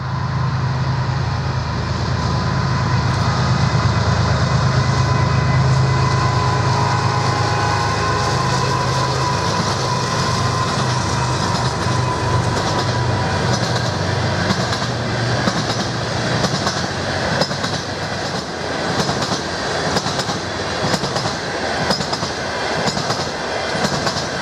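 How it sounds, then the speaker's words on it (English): A southbound unit oil train on Canadian National's Waukesha Sub rolls past farm equipment on a dreary afternoon, a loud, steady rumble with continuous clickety-clack of railcar wheels and no speech. "as a southbound unit oil train passes some farming equipment"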